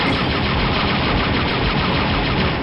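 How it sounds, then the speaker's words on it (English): Rapid automatic gunfire rattles nonstop in the Star Wars Dark Forces video game, a dense, loud burst of shots aimed at the player that holds steady for the whole stretch without any voices. "I don't even know who or what is shooting at me."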